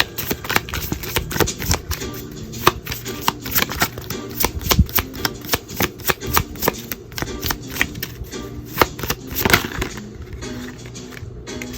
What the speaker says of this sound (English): so I'm going to shuffle again